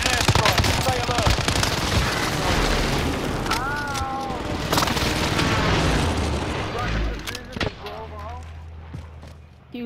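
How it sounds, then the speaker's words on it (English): Dense, continuous booms and rapid gunfire-like blasts from enemy precision airstrike explosions in the video game Warzone, loud and sustained throughout, with game voices and chatter mixed in over the barrage. "Enemy precision airstrike. Stay alert."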